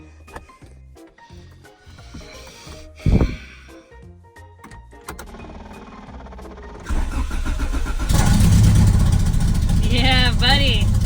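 Honda CRX engine with the choke set, starter cranking in short bursts after quiet shuffling, then catching and running steadily at a loud, rough idle.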